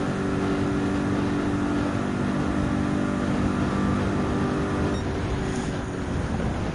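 A racing car engine in Gran Turismo 7 drones at high revs with a steady, buzzing tone, then shifts pitch briefly as it upshifts into sixth gear near the end.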